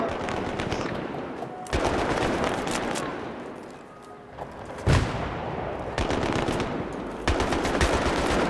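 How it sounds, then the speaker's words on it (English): Bursts of automatic and single-shot gunfire in the video game Battlefield 3, loud and close, with sharp cracks repeating in clusters across the whole stretch and no talk. "What are they still shooting?"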